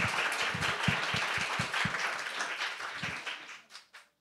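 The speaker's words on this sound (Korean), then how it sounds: "Please welcome Professor Sonia Martin with a big round of applause." An audience applauds a guest speaker, Professor Sonia Martin, at a youth climate conference, with dense, even clapping throughout that thins into a few last claps and stops.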